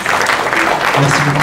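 Audience applause fills a room after a film screening at a permaculture and reforestation conference, steady dense clapping throughout, with someone briefly speaking over it near the end.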